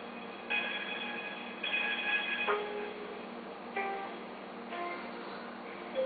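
Telephone hold music from Ancestry.com plays as a thin, tinny melody of sustained tones shifting every second or so, heard alone with a constant line hiss underneath.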